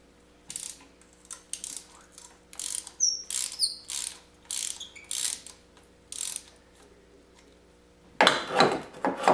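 A ratchet clicks in short, uneven bursts while loosening a spark plug on a 1.8T engine, with a louder, harsher burst of ratcheting near the end; no talking.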